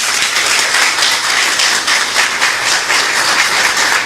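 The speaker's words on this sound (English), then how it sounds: "Let's give her a round of applause." Sustained applause from an audience at a political party event announcing a running mate, a dense, steady wash of clapping that fills the whole stretch without a break.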